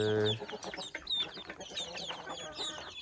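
A hen clucks in short, choppy bursts among backyard chickens raised for eggs, close by, with chirpy higher calls scattered through and no voices.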